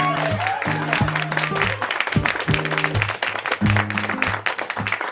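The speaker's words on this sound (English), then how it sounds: "Let's have a round of applause for Rosemary." An audience applauds, a continuous wash of clapping mixed under steady background music with a low, repeating melodic line.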